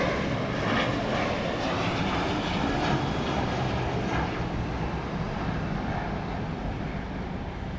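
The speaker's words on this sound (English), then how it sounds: "That would have been flight 910, 737-700 going to Raleigh-Durham, North Carolina." A Boeing 737-700 airliner departing Dallas Love Field passes overhead at night, a broad, steady jet roar that fills the scene and slowly fades toward the end.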